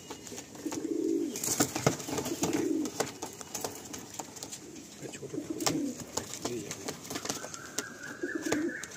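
Madrasi pigeons in a loft coo in soft, repeated low phrases at close range, with scattered clicks and faint rustling around them.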